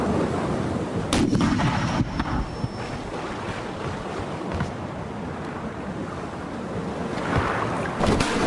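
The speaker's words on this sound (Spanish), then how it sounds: "La primera batería de costado del navío inició la inevitable carnicería." A pirate ship's cannon broadside at sea during a battle, several heavy booms going off one after another over rough waves and wind.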